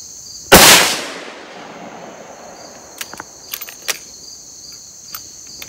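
A single loud, sharp rifle shot from a Ruger Precision Rifle in .308 cracks out near the start and then decays, followed by faint scattered clicks and light movement in an otherwise quiet outdoor setting.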